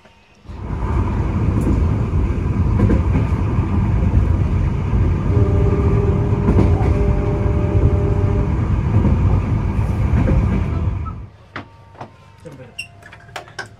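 The Sritanjung economy train rolling along the rails, heard as a loud, steady rumble with clatter from inside the carriage that runs for about ten seconds, then drops away abruptly to near quiet with a few scattered knocks.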